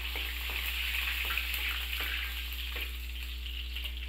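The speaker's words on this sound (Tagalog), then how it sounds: "mainit na ang mantika. Ngayon naman pwede natin ito simulang lutuin. Gisa muna natin ang bawang." Garlic sautéing in hot cooking oil for a sauce, a steady close sizzle and crackle with a few soft stirring scrapes, no voices.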